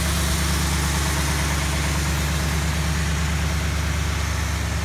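A restored 1940 Ford Super Deluxe engine idles close by with a steady, smooth, even low rumble that holds without change from start to finish.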